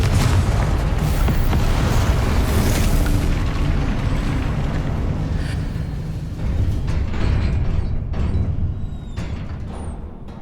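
Confringo blasting-spell explosions in the Hogwarts Legacy game: heavy booming blasts rolling into one another, loud and close, with a rumbling tail and brief crackles as they fade.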